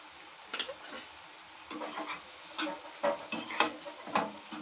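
A spoon stirs a sizzling tomato and capsicum curry in a pan as salt is mixed in. The faint scraping strokes come in an irregular rhythm over a soft, steady frying hiss, with no talking.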